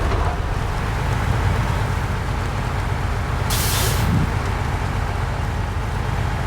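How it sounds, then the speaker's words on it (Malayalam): A loaded six-wheel off-road truck in the game Snowrunner drones with a constant loud engine rumble, and a short hissing burst of air sounds partway through. "ഇതൊരു 6 വീൽ ട്രക്കാണ്."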